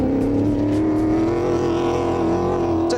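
A 4-litre TVR V8 in a Range Rover-chassis Tomcat 4x4 holds a loud, steady engine note throughout, a droning rev with a slight rise and fall and no talk over it.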